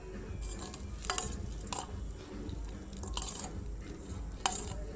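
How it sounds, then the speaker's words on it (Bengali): Puffed rice (muri) being stirred into milk, giving soft wet stirring and dripping sounds with a few brighter clinks and scrapes, close and fairly quiet, with no talking. "এখন দুধ মুড়িটা মিশিয়ে নিব।"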